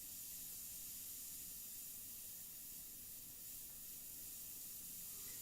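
An airbrush sprays India ink in a steady, faint, unbroken hiss of air that holds level throughout, with no talk.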